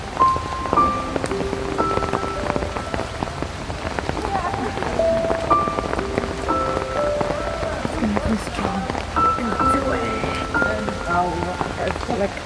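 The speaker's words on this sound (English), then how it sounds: "like you can see it's raining, not just raining, but really raining" Heavy rain falls steadily on a rainy day, a dense continuous patter and hiss of drops on surfaces that lasts throughout at moderate loudness.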